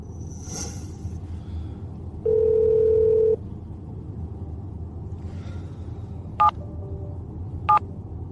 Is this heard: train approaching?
no